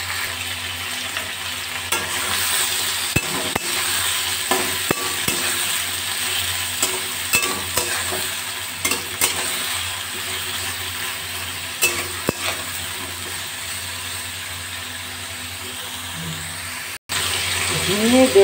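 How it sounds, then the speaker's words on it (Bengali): Ridge gourd and potato pieces frying over a raised gas flame, with a steady close sizzle and occasional scrapes of stirring in the pan. "ঝিঙে দেওয়ার পর গ্যাসের ফ্লেমটা বাড়িয়ে 2 মিনিট ভাজা হয়ে গেল।"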